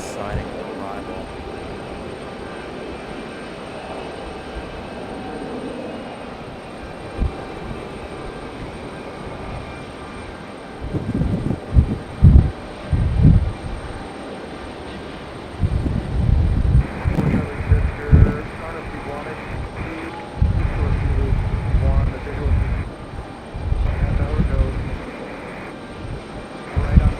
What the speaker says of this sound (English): our 717 up next. This one again coming in from Detroit, Michigan.